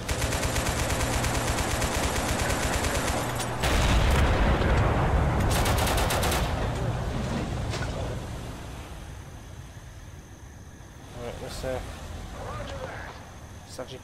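Rapid bursts of tank shell and gunfire in Total Conflict Resistance, dense loud volleys at first, then a heavy blast rumbling down into quieter scattered shots.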